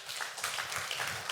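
A church congregation claps together in a short, dense burst of applause with no voices over it.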